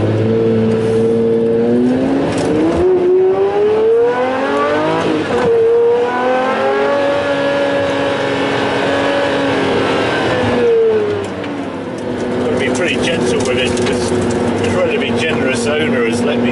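A Pagani Zonda 760RS engine accelerates hard and close, its rising harmonic whine climbing through repeated gear shifts, briefly dipping, then building again.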